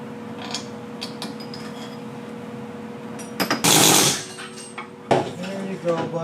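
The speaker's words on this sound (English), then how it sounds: "The air hammer is the best way to shake the Y pipe loose from the turbo." A brief, loud, rattling burst from an air hammer shaking a Y pipe loose from the turbo of a 7.3 Powerstroke engine, with a shorter second hit after it, all under a steady background hum.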